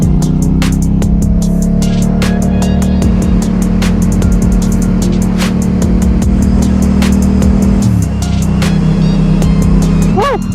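A motorcycle engine drones loud and steady while the rider practices wheelies in third gear, its pitch dipping briefly before settling again, with heavy wind buffeting and no clear talk.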